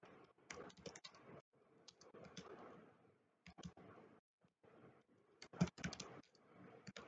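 Typing a title on a computer keyboard: quiet, close clicking of keys in uneven bursts with short pauses, alone.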